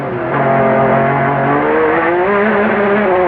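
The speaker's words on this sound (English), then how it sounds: "Back wheels just lit up. Lost grip. Car went around." A race car in the 2003 Rolex 24 loses grip as its back wheels light up and it spins, a loud engine note rising and falling through the corner with tire noise, no voices.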